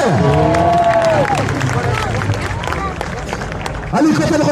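Audience clapping and cheering at a Sarah Lezito motorcycle trial stunt show, a dense, steady wash of applause with a motorcycle engine revving and falling at the start and swelling again near the end, people talking throughout.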